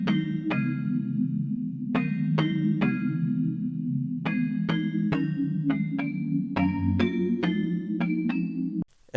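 A music box bell sample in an Afrobeat production rings out in bright, sparkling plucked notes at an unhurried, irregular pace, each decaying slowly over a steady warm low pad.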